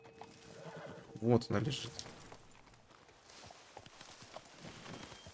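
A horse in the Red Dead Online video game gives a loud, short whinny, followed by light clip-clopping hooves, while someone talks over it.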